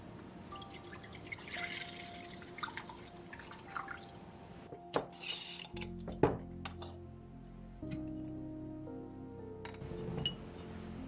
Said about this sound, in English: Begin by gathering all of your ingredients into a pot